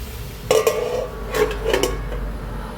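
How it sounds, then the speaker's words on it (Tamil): A lid set down on a pan of pumpkin poriyal cooking on the stove, heard as a couple of close metallic clinks and a brief clatter, then a quieter pair of taps a moment later, with no talking. "ஒரு மூடி போட்டு இதை நம்ம மூடி வச்சிடலாம்"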